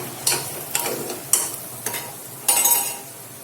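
Dal and eggplant being stirred and sautéed in a pan, with several sharp scraping strokes of a spoon against the pan over a faint background sizzle.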